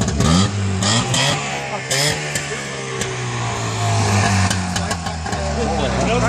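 A buggy engine revs loudly at a Sledge Hammer event in Grimmen, rising and holding a steady droning roar close by, with people talking over it.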